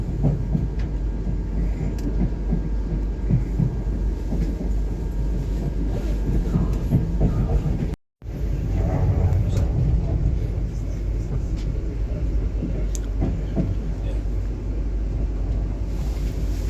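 Steady rumbling interior of a moving South Western Railway train between London Waterloo and Reading, heard from the middle of the train, with a constant low drone, faint clunks and a brief dropout partway through.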